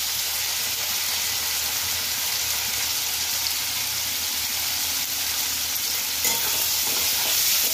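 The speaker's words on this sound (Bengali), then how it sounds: "আলুগুলো একটু ভালো করে ভেজে নেবে" Potatoes frying in oil with salt and turmeric for a Bengali potol chingri curry, a steady close sizzle with occasional scraping stirs and no talking.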